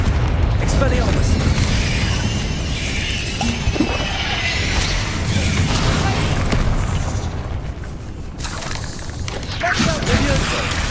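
Confringo blasting spells from Hogwarts Legacy burst in loud repeated explosions amid dense combat noise, with a voice calling out spell names throughout.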